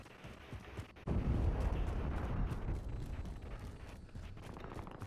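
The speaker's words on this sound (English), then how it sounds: "Enemy cruise missile incoming." A cruise missile explodes in Call of Duty: Modern Warfare. After quiet rustling, a sudden heavy blast hits and settles into a prolonged rumbling roar that slowly fades.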